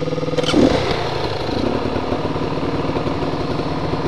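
Kawasaki KLX or Beta Xtrainer dirt bike engine running nearby in a forest, its exhaust note fluctuating as revs drop and rise, with a louder burst near the start before settling into a steady, uneven idle.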